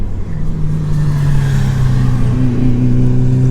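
Toyota GR Supra on slick tyres with a big brake kit, its engine droning loudly and steadily as it accelerates down a track straight, pitch climbing slightly, no voices over it.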